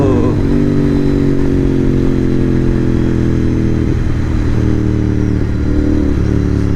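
A modified 2024 Royal Enfield GT650 twin accelerates hard in second gear. Its loud, close engine note climbs steadily in pitch with a rough exhaust rumble throughout.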